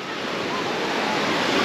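Choppy sea waves at a beach produce a continuous, rushing wash of surf that builds slightly in loudness over the short stretch, with no talking.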